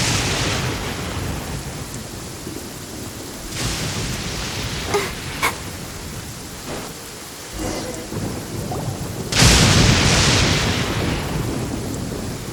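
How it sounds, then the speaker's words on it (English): Rain and thunder in the Genshin Impact video game: a steady hiss of rainfall with rolling rumbles of thunder, building to a loud, close thunderclap near the end, with no voices. "Don't stay out in the rain for too long."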